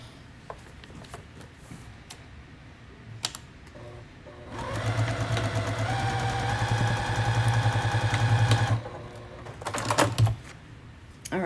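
A sewing machine stitches quilt pieces together, beginning after a few quiet handling clicks and running as a steady, close mechanical whir for several seconds before stopping, followed by a short second burst.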